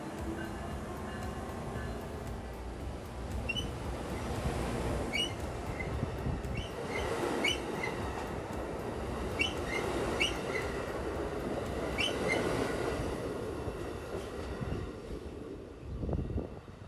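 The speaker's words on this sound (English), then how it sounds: "the conductor closes the door and Amtrak 393 continues south to Carbondale." Amtrak 393 pulls out of Homewood station heading south toward Carbondale, a steady loud rumble of rolling rail cars with repeated higher squeals and clicks riding over it, no voices.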